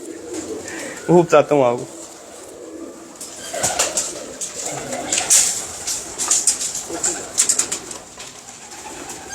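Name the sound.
Teddy pigeons cooing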